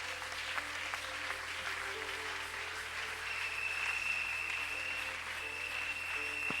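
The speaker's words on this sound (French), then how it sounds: "Une bonne offrande d'acclamation pour notre Dieu." Applause fills a church during a worship service, a steady dense wash of clapping that carries on throughout at moderate volume with no talk over it.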